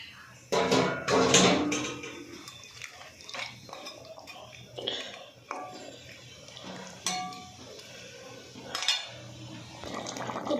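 Fish pieces are added to a cooking pot after the spice mixture and water, with clinks of a utensil against the metal pot, soft splashes and scattered clatter, close and intermittent.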